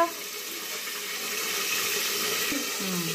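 Water pours steadily into a cooking pot with a continuous splashing rush, close by, no voices, while making Maggi noodles.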